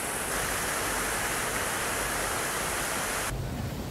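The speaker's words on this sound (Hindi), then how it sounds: "यहाँ पे शेर के मुंह से पानी निकल रहा है" Water pours from a lion-head fountain in City Park, Kota, a dense and even rushing splash that holds steady throughout and softens slightly at the very end.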